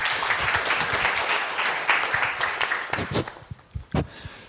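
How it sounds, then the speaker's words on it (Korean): Audience applause at a Korean academic lecture on mindfulness meditation, dense clapping that gradually thins into scattered individual claps near the end. "박수 부탁드리겠습니다"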